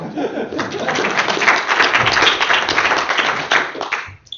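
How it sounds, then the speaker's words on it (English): Tech talk audience applauds a speaker, a dense burst of clapping with faint chuckles and murmurs mixed in, swelling then tapering off. "Please give a round of applause for Dirk."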